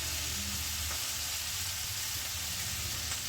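Bitter gourd sautéing in a pan for a Kerala theeyal, a steady soft sizzle and frying crackle throughout with a low hum beneath, no voices.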